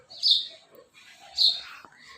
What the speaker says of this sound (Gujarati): ચકલીનો મસ્ત ચીંચી અવાજ સાથે જો કેટલી મસ્ત રોજ આવે છે